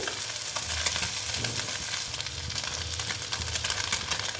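Small mourola fish frying crisp in hot oil, a loud, continuous crackling sizzle with occasional stirring, close up.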